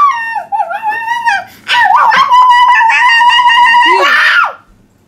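A young girl imitates a dog barking with loud, drawn-out, howling yips in two bursts, playing with toy animals.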